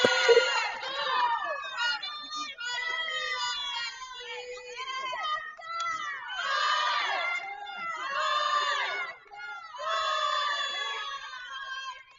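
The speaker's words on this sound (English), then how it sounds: "that's a normal, very common cheer for Texas. Texas fight, Texas fight" A crowd at an NCAA Division I tennis super regional chants the "Texas fight" cheer in repeated loud, rhythmic bursts of massed voices, with shouting rising and falling across several rounds.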